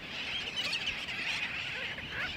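A colony of black noddy seabirds on Principe island calls in a dense, continuous chatter of overlapping high chirps and squawks at moderate distance, steady and unbroken for a couple of seconds, with no voices.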